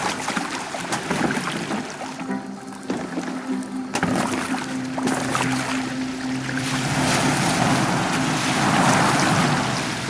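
Boat sailing across open water in Assassin's Creed Valhalla, with a steady wash of waves and wind around the hull, swelling louder toward the end, with no talk over it.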